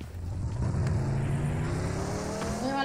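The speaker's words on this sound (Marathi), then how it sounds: "बगी काढ आपली बगी काढ" Buggy engine in PUBG Mobile, a steady revving motor hum with rising pitch as it accelerates, continuous and fairly loud with no talking over it.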